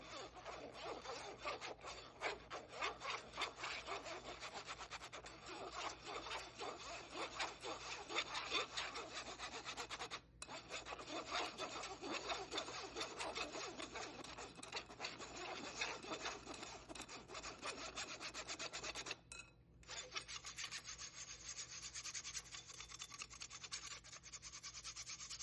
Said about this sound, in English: First, I'm going to sift my flour.